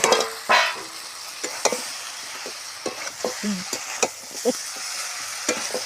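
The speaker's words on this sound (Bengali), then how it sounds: "আর ভেজে রাখা আলু আর মুড়োটা দিয়ে আবারও কিছুক্ষণ কষিয়ে নেব।" Soaked rice, fried potato and fish head are stir-fried in spices for Bengali muri ghonto, with a steady sizzle under scattered scraping strokes of a spatula against the pan at close range.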